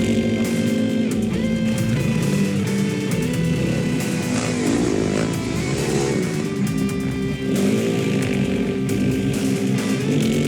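An off-road motorcycle tears around a dirt racing track, its engine buzzing loud and close with rising revs and shifting pitch throughout, backed by steady noise and no speech.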